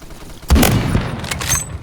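M60 machine gun fire in a video game, a loud burst of rapid shots kicking in after a quiet half second and rattling on steadily with a few sharper cracks near the end.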